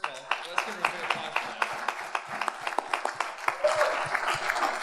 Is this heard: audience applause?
yes